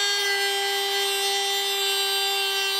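A cutoff wheel on a rotary tool cuts notches into a cardboard crayon box, giving a steady high-pitched whine with a strong sustained tone and bright overtones throughout, alone and without talking.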